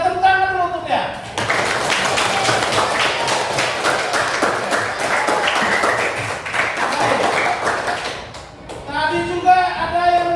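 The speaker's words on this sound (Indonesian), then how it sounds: "Kita tepuk tangan dulu untuk dia" Classroom of students applauding a classmate, a sustained burst of many hands clapping, loud and even, framed by a teacher speaking just before and after.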